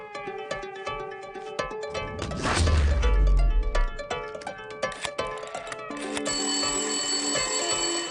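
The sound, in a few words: telephone ringing with an incoming call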